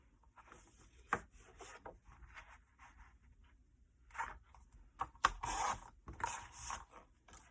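Paper sheets for a 6x6 mini album are cut, with quiet scraping and rubbing strokes and a few sharp snips in irregular bursts, close by and soft.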